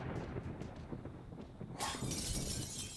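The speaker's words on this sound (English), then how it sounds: "smashing the windows, and then heading up to level 4" Zombies smashing windows in the survival game 7 Days to Die, a bright sudden glass shatter after a stretch of low rumbling footsteps and knocking, the breaking spray lingering to the end.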